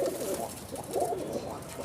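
A breeding pigeon gives a low, continuous cooing that rises and falls in soft pulses throughout, close and moderately loud, with no voices.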